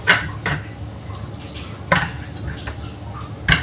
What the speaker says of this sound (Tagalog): Lalagay ko siya dito sa plato.